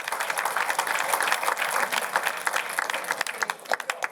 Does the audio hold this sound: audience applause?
yes